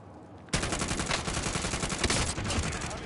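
Sustained automatic gunfire in Warzone Rebirth Island bursts in after a brief quieter moment, loud, rapid and continuous to the end.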